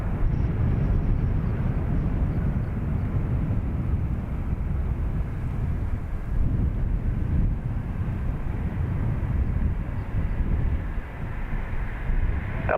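At Dublin Airport an airliner rolls for takeoff, a loud continuous low roar of jet engines with wind rumble that holds steady throughout.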